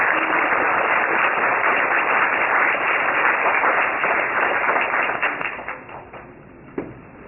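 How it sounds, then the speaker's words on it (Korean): Congregation applause at a church installation service, dense sustained clapping from a crowd that thins out and fades over the final seconds, ending with a few scattered claps. "시민 여러분들의 마지막으로 큰 박수 부탁드리겠습니다"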